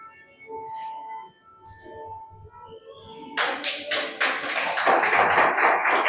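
Applause and clapping from a church congregation during a worship service, beginning suddenly partway through and swelling into loud, sustained, dense clapping after a quieter tonal stretch.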